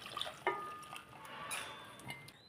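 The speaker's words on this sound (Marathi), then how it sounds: "आता ही डाळ सगळी आपण ह्याच्यात ओतून घ्यायची." Cooked dal poured into a pan of tamarind water and jaggery for rasam, heard as soft wet splashes and drips with a small plop near the start, close and quiet.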